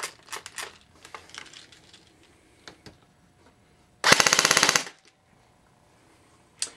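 A G36C gun fires one fast automatic burst of about a dozen rapid shots over a chronograph, loud and close, after several seconds of scattered clicks and handling noise.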